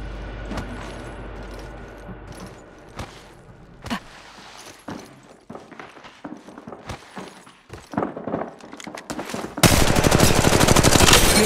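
Rapid gunfire from a video game firefight, bursts of automatic shots crackling through the first half, then a dense, loud continuous volley near the end.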